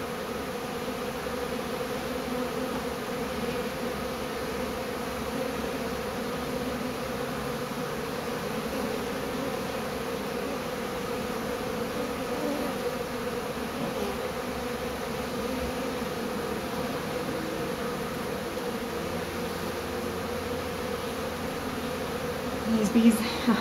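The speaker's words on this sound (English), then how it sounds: "These bees are very interested in me because I now have queen scent on me" Bees buzz in a dense, continuous drone around a comb set in a treasure chest where a swarm is settling, steady and close for the whole stretch, with a brief rustle near the end.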